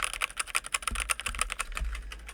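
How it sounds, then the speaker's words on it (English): Semi-loud mechanical keyboard being typed on nearby, a steady run of quick clacking keystrokes with a few heavier thumps, heard on its own with no voices. "I'm going to start clacking on my semi-loud mechanical keyboard right about now."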